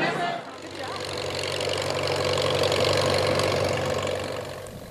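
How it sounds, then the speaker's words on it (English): A tractor engine runs steadily at a heritage festival demonstration, a mid-pitched chugging hum that swells slightly in loudness and then eases, with crowd noise in the background. "Tractor demonstrations were on hand"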